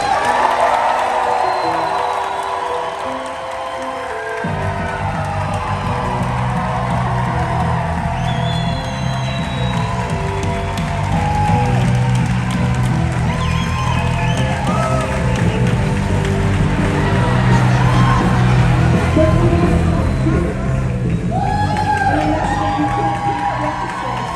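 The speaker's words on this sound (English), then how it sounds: "Please give an enthusiastic welcome to Mr. Rain Wilson." Convention panel audience at a fan event applauding and cheering as a celebrity guest comes on stage: a loud, sustained wash of clapping with whoops and shouts rising after a few seconds and continuing near and full throughout.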